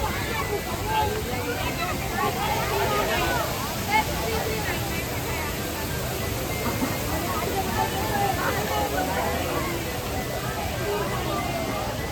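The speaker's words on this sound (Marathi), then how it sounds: "असं मस्त त्याच्यावरती पाणी पडतंय, कारंजे चाललेले आहेत" Steady, dense splashing of water fountains at the Statue of Unity, Ekta Nagar, fills the clip, a continuous broad wash with a faint murmur of people in the background.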